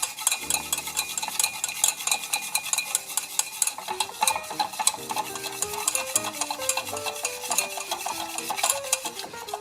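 Salted butter caramel is stirred in a pan with a little butter, producing a close, busy bubbling and scraping with quick clicks, while soft music plays in the background.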